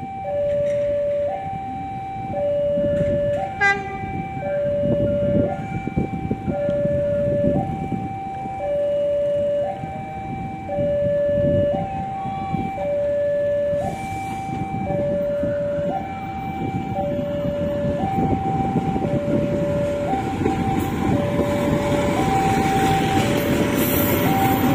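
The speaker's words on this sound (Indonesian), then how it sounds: "ini persiapan kereta api Jenggala terlebih dahulu dari Surabaya Kota ke Mojokerto yang akan datang" As the Jenggala passenger train from Surabaya Kota to Mojokerto approaches a station, a loud two-note warning tone alternates steadily for about twenty-five seconds over a broad rumbling background.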